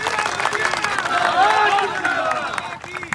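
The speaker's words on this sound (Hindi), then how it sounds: "जोरदार तालियां होनी चाहिए धीरज जी के लिए" A crowd applauds and cheers at a political gathering, a dense spread of clapping with mixed voices and a speaker talking over it, held at a steady level for a few seconds.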